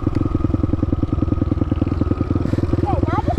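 A YCF 190 Daytona supermoto motorcycle engine runs steadily with a rapid, even pulsing throb, loud and close throughout, with a brief higher squeal near the end.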